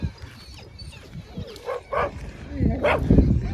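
Dogs fighting outdoors, with a few sharp barks, yips and snarls at close range, rising toward the end over people talking and shouting nearby.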